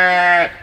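A single loud, close sheep bleat on a farm, a harmonic, wavering call lasting about half a second.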